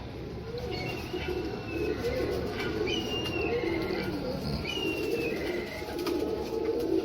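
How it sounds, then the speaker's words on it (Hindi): Soft pigeon coos repeat among faint chirps over a steady background hum, fairly distant, with no clear talking. "ये नईम भट्टी साहब ने अपनी मेहनत से बनाए हुए कबूतर हैं माशाल्लाह।"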